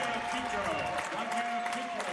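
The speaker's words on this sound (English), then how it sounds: "Some applause from the crowd." A basketball gym crowd claps in a brief burst of applause, a soft wash of clapping under a talking voice and a faint steady tone.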